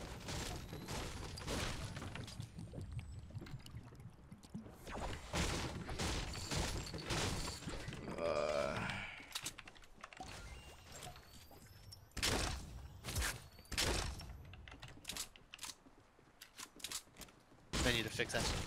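Hunting rifle and other gunfire in a Fortnite Battle Royale match, with repeated sharp shots scattered through the stretch amid game noise, one denser burst near the middle and louder cracks toward the end.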